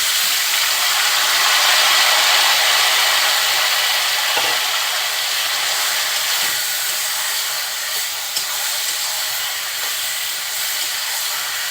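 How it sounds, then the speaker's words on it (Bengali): Shredded cabbage dropped into hot oil with cumin and garlic, giving a loud, steady hissing sizzle that eases slightly over several seconds, with a few faint clicks and no voices. "এই পর্যায়ে এখন আমি পাতাকপিটা দিই।"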